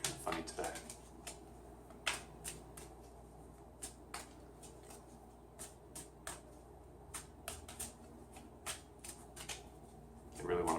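Tarot cards being shuffled by hand during a full moon reading, a steady run of soft papery riffles and flicks close to the microphone, with a louder handling rustle at the end.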